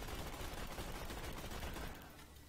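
The Becca gun fired manually in Borderlands 2, a dense, continuous rattle of rapid shots that stays steady and loud, then eases off slightly near the end.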